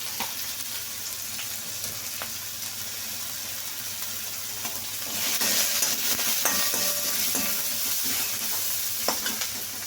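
Turmeric powder sizzles and crackles in a hot pan, a steady hiss that grows louder midway, with occasional clinks of a stirring spoon.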